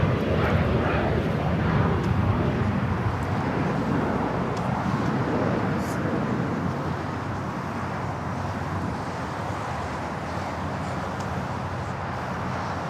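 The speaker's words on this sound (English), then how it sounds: "Frontier A320 Neo heading for a south side takeoff" A Frontier Airbus A320neo jet takes off from LAX with a steady, broad engine roar that holds loud and even throughout, gradually easing slightly, with no voices.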